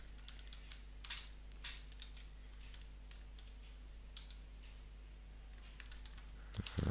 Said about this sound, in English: I'm just going to write some text here so you can get in a basic idea.